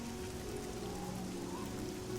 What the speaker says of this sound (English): At least if we are in Cheydinal under a gloomy sky, it's raining.